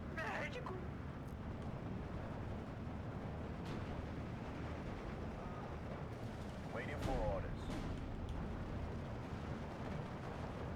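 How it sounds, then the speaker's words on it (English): Artillery shells drop and burst in the WWII strategy game Steel Division, with faint distant booms under a constant rumbling battlefield bed and a slightly louder impact midway. "You can see all the artillery dropping out."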